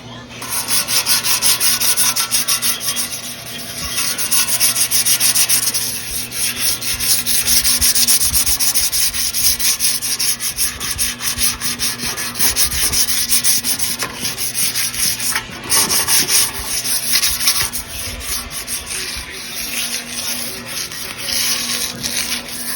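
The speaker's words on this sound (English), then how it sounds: "I'm just gonna go ahead and sand it down or scuff it up and get it repainted" Continuous close scratchy sanding on a painted vehicle bumper, a steady dense rubbing texture lasting throughout with only slight variations in loudness.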